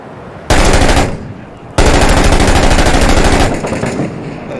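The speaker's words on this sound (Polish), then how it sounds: "Strzelają." Loud, close automatic gunfire in a video game: a rapid burst cuts in, fades briefly, then a second long sustained volley rattles on before tapering off.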